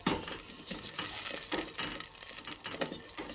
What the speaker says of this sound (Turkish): İçine tel şehriyelerimi koyup biraz kavuracağım bu yağda